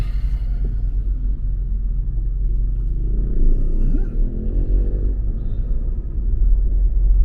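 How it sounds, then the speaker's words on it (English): A car crawling through congested city traffic in Cebu City gives a loud, continuous low engine rumble that swells slightly as it pulls forward, heard up close from the vehicle with no voices. "there's quite a traffic congestion"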